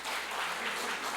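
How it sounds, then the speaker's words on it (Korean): A church congregation applauds during a Christmas Eve Sunday service, a brief, even wash of clapping throughout. "박수 치지 마세요."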